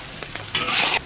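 Duck pieces and bamboo shoots stir-fried in a wok with dark soy sauce: a few soft scrapes, then a loud, steady sizzle that swells and holds before cutting off, close and without talk.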